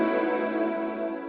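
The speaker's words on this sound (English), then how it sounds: "So you can get some weird warping on that reverb." A sustained, buzzy synth-like tone passes through a free reverb plugin with modulation, giving it a wobbling, chorused, slightly warped wash that holds steady before cutting off.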